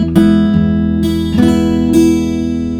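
A blues guitar riff played fingerstyle, with three strummed double-stop hits over a ringing low bass note, close and clear, with no talking.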